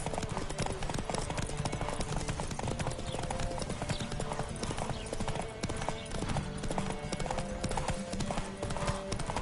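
Galloping horse hooves pound in a fast, continuous clip-clop rhythm during a horse race in The Witcher 3, loud and close, with a game score droning steadily underneath.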